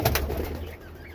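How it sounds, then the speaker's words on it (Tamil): A newly hatched pigeon chick gives soft, breathy calls close by, a couple of short peeps at the start fading into a faint, continuous wheezy cheeping over a low background hum. "புதுசாக பிறந்த புறா குஞ்சு பார்த்துருக்கீங்களா?"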